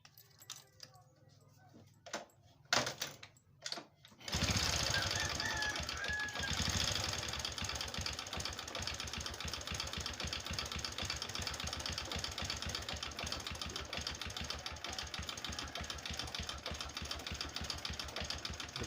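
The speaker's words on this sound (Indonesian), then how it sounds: "Kita akan coba hidupkan suara mesinnya," A motorcycle engine that runs rough and smokes white, with oil in the exhaust, starts after a few clanks and then idles loud and close with an uneven, knocking chug.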